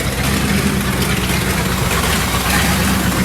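A 1965 Imperial LeBaron V8 idles loud and close, a steady low rumbling exhaust drone that holds evenly throughout.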